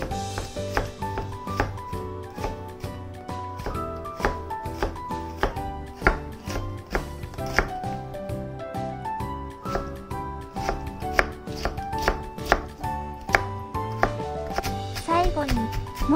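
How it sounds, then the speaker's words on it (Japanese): A knife finely minces onion on a cutting board while making omurice, a brisk, steady run of close chopping strokes over continuous background music. "最後にもっと細かく上からみじん切りにしていきます。"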